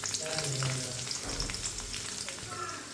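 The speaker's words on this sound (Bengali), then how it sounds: "জিরা ফুটে উঠলে এর মধ্যে দিয়ে দেব পেঁয়াজ কুচি।" Chopped onion frying in oil with whole cumin seeds and bay leaves for a bottle gourd stir-fry, a soft continuous crackling sizzle with faint stirring, fairly quiet and close.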